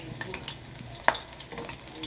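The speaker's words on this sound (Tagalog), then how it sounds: "Kailangan natin ipa-brown ang bawang." Garlic fries in a pan with a soft, steady sizzle, broken by a sharp utensil clink against the pan near the middle while stirring.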